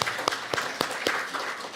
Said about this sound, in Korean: 잠깐 일어나서 환영의 박수를